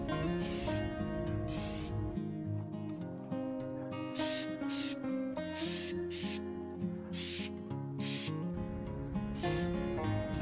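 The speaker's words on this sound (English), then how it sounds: "long, even overlapping strokes, keeping the spray can a constant distance from the part through the entire stroke" Short hissing bursts from a spray can coat a metal Bronco part in long overlapping strokes, about a dozen quick sprays spread across the clip over steady background music.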